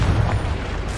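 A Confringo blasting spell explodes in the Hogwarts Legacy video game, a deep booming burst with rumbling low end that decays over about a second.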